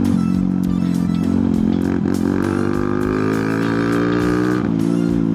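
A TVS Apache RTR motorcycle rides off-road through deep mud with a loud, continuous engine drone that shifts pitch as the throttle rises and falls, heard close and alone.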